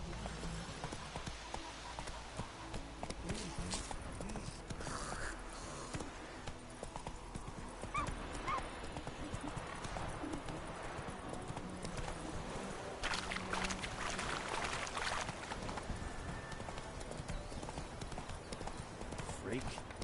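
Roach, Geralt's horse in The Witcher 3, trots with steady hoof clip-clops through the scene, with an occasional whinny, under game voices and ambient noise.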